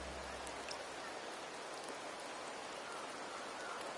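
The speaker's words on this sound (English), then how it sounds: "The rains in Septimont never seem eager to leave this season." Steady rainfall in the Wuthering Waves video game, a dense, even hiss of drops at low volume with no breaks, with no speech on top.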